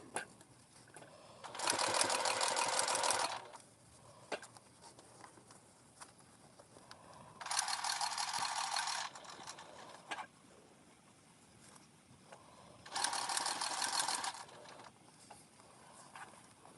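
A sewing machine top-stitches a seam on an H2O-to-go bag in three separate bursts of fast, even needle chatter, each lasting a second or two, with quiet handling pauses in between.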